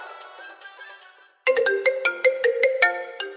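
A melodic phone ringtone: a soft tune fades out, then after a brief gap a louder, bright chiming pattern repeats in quick rhythmic pulses.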